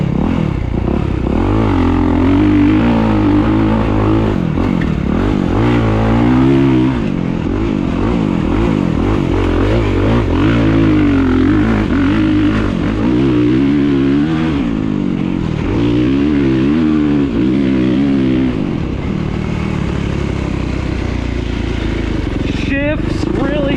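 A 2023 Kawasaki KX450SR dirt bike is ridden hard and loud, the engine rising and falling through repeated revs and gear shifts, with clattering and scraping and a voice talking over it.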